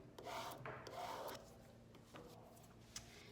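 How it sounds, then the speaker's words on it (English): A plastic scraper rubs firmly across transfer tape laid on a wooden sign, giving two rasping strokes up front and quieter scraping after, close and alone. "you're going to give it another scrape"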